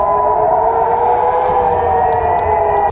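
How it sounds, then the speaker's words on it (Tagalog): A steady air raid siren wails continuously, loud and sustained, with a droning tone and slight echo, no voices present. "lalo na kapag umalingaw-ngaw na ang sirena"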